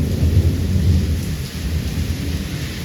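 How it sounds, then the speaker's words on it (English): A thunderstorm rolls low and steady under a dense wash of heavy rain. The sound is loud and continuous, with no voices. "I think we're having a hurricane."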